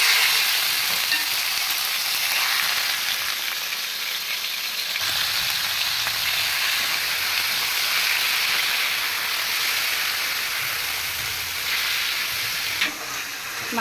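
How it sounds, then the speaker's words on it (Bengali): Meat frying in oil in a frying pan on a stove, a loud continuous sizzle and crackle that holds steady for nearly fourteen seconds with small stirring noises; no talking. "আর এই চুলায় ফ্রাই প্যানে আমি তেল গরম করে নিচ্ছি। তো প্রথমে আমি মাংসটাকে একটু ভেজে নেই।"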